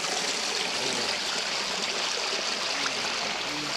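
Clear water of a waterfall-fed stream in Mindanao rushes steadily in a constant, full, close hiss with no pauses or voices.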